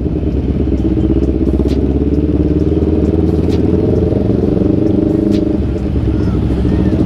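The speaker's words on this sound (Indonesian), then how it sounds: "kedua kalinya gue naik motor si Ical" A loud, steady Honda CBR 250 RR motorcycle engine drones throughout with a rattling putter, close up as if riding along at night, with faint voices underneath.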